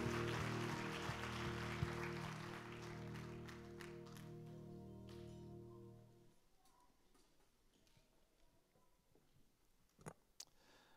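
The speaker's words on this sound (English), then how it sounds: "could you clap your hands to him one more time as you're seated?" Seated church congregation clapping their hands in a steady wash over sustained organ-like chords for about six seconds, then the room falls quiet apart from faint scattered sounds.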